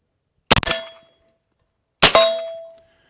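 Two suppressed .300 Blackout rifle shots with supersonic ammo, each a sharp, loud crack followed by a brief metallic ringing tail, about a second and a half apart.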